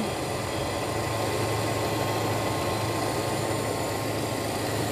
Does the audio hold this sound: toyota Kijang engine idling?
yes